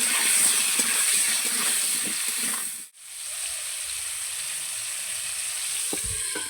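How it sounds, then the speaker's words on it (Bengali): Cut potatoes frying in mustard oil in a pan, dusted with a little turmeric and salt: a loud, steady, hissing sizzle, close by, with a brief muffled drop midway, as if the lid is set on or lifted off, and no voices. "ঢাকা দিয়ে দিয়ে আলুগুলো বেশ ভালো করে একটু লাল লাল করে ভেজে নেব"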